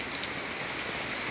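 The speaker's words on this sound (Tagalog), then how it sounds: "Hindi pa rin humupa ang kanyang ulan" Heavy post-storm rain pours onto a flooded garden of sponge gourd vines, a dense, even hiss of drops hitting standing water with no letup.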